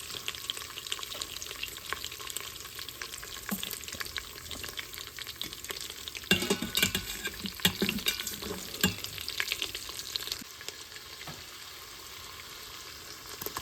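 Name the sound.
sautéing cardamom, spices and garlic for shrimp biryani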